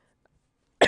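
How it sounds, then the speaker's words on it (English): A single short, harsh cough bursts out loud at the very end after near silence. "The lingering cough returns."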